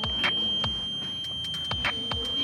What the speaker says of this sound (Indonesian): di sini buzzer akan berbunyi seperti ini.